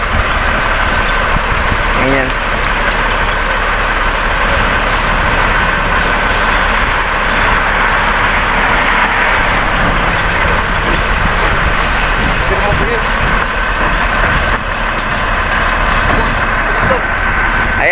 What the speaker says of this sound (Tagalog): Dumating na yung truck.